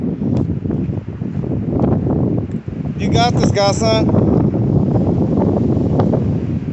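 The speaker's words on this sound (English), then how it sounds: "Woo, there's a wind. Sorry about the wind" Outdoor wind buffets the microphone in a loud, continuous low rumble, with a person briefly speaking over it.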